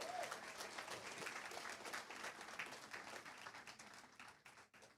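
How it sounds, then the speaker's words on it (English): School board meeting audience giving a round of applause for Apple Award winners, a full steady wash of clapping that is faint overall and tapers off toward the end with a few last claps. "one more round of applause for our Apple Award winners"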